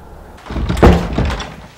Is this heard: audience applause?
no